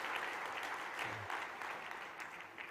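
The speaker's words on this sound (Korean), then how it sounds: "우리 박수로 한번" Church congregation applauding during a Sunday evening service, a steady wash of many hands clapping at moderate level throughout, with no voices over it.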